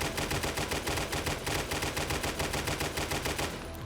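Rapid automatic gunfire from a weapon in the 7 Days to Die video game with the COD Zombies Perks mod, a steady stream of loud, evenly spaced shots that stops near the end.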